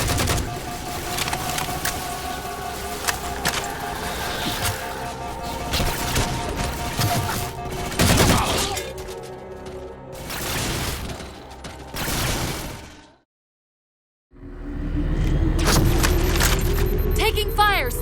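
Gunfire in Halo 4 rattles in repeated bursts amid mechanical clatter and vehicle noise, with voices talking over it, then a brief silence before loud action resumes.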